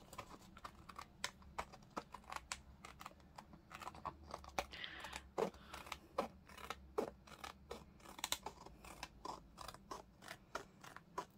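Scissors cutting through a paper envelope, a steady run of crisp snipping clicks and rustling paper, close and moderately quiet, no talking.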